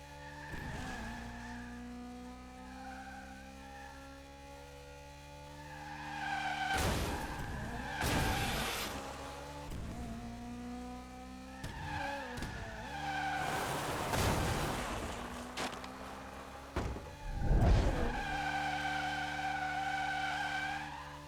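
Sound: racing cars skidding in the video game Split Second

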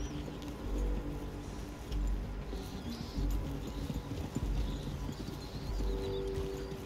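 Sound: horse hooves clip-clopping in Red Dead video game

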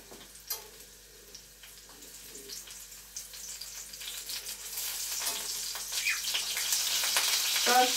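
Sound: food frying in a pan

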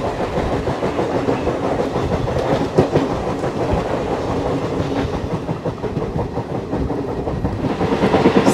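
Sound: Pune–Ernakulam superfast express train running on rails

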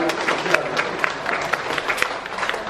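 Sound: wedding guests applauding

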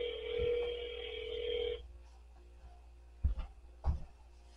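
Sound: phone call ringing unanswered

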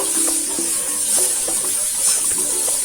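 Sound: stirring kabuli chickpea and potato curry in a pan

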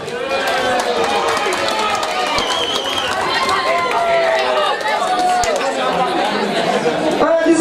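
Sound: crowd cheering at boxing fight

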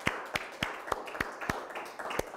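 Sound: audience applause for guest speakers

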